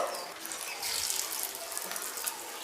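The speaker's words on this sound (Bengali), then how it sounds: "এখন এই তেলের মধ্যে সোয়াবিনগুলোকে দিয়ে দিচ্ছি এগুলোকে আমি ডিপ ফ্রাই করবো" Soybean chunks dropped into hot refined oil for deep frying over a medium gas flame, giving a steady, bright hiss and crackle that carries on throughout with small bursts, no talking.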